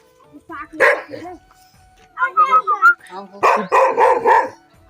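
Several sharp dog barks in a rural village come in clusters, loud and close, with brief pauses between the bursts.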